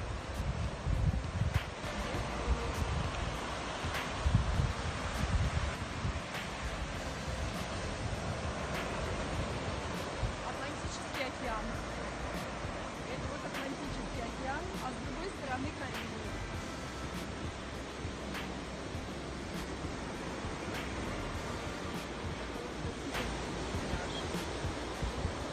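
Wind and surf on a beach at Cabarete, Dominican Republic, make a broad, steady rushing wash with some gusty rumble into the microphone, and someone speaks briefly over it.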